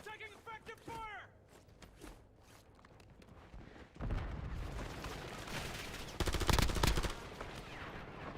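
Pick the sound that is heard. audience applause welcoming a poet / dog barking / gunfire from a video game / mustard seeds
gunfire from a video game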